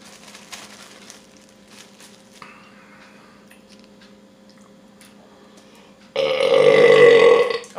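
A loud, long burp after eating pupusas, the El Salvadorian dish, erupts close up near the end, following quiet room noise with faint soft sounds.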